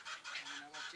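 Chickens on a poultry farm give a quick run of soft, repeated clucks, three or four short bursts within about a second, faint and close together.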